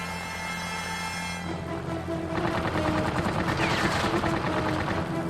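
Rapid machine-gun fire from a World War II aircraft in the video game Secret Weapons Over Normandy, a loud continuous rattling burst over steady engine drone that grows denser partway through.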